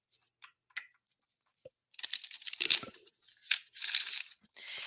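Oracle cards being shuffled by hand, with a few faint papery taps at first and then a dense run of crisp riffling and rustling bursts, close and fairly loud, with brief pauses between them.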